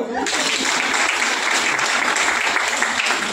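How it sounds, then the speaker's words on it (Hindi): An audience at a spiritual gathering with a guru claps together in a dense, sustained burst, loud and close, starting abruptly and continuing evenly. "कितने खास हो, जल्दी से ताली बजा दो।"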